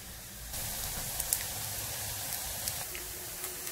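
Potato pancakes (draniki), six smaller ones, sizzle in oil in a frying pan, a steady hissing crackle with occasional pops, close and continuous without talk.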